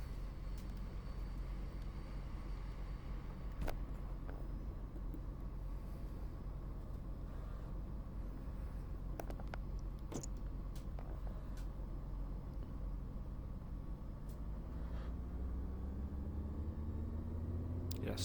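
Helicopter engine spooling up before takeoff, a steady low rumbling drone with a rising whine building toward the end, with scattered faint clicks over eighteen seconds.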